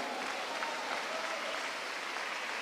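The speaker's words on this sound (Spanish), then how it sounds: "¿Cuánto da un aplauso al Señor?" Faint, steady applause comes from a congregation at an evangelical youth conference service. The even clapping sounds distant and soft throughout, with no speech on top.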